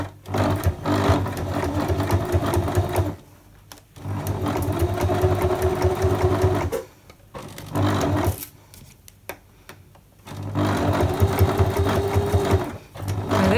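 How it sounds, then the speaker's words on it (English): Sewing machine top stitching through heavy fake suede on a bag handle, running in three steady bursts separated by short pauses, close and loud with no talking. "now I'm going to top stitch down here"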